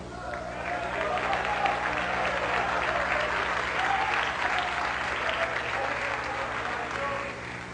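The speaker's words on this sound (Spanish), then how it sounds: "Denle un aplauso a Cristo." A church congregation applauds steadily and loudly throughout, a dense wash of many hands clapping with some voices mixed in.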